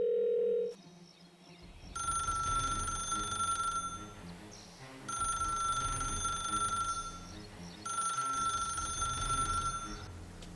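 A telephone ringing in repeated bursts, three loud electronic bell trills each lasting about two seconds with short gaps between, following a brief beep at the start.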